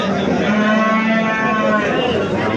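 A cow for sale at a livestock market moos in one long, loud, sustained call, close by, over a low background murmur of the market.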